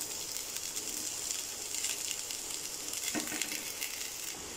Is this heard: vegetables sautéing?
yes